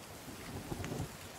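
Rain falls in the survival video game The Forest, a faint, soft, even patter with low rumbling for a brief moment.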